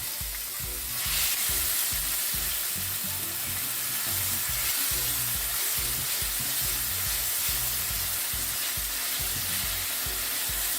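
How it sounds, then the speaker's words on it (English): Seasonings saute in a pan for Jamaican corned beef, producing a constant close sizzle and crackle with soft stirring scrapes, no voices. "you're just gonna let your seasonings saute for a bit"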